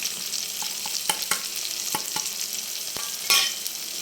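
Ground spices such as Kashmiri chilli, coriander and cumin powder fry in a pan with a steady close sizzle, punctuated by sharp spatula knocks and scrapes as they are stirred.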